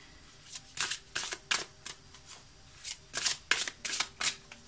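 Mandala energy oracle cards are shuffled in quick, crisp riffles, a close run of papery flutters in two bursts separated by a short pause.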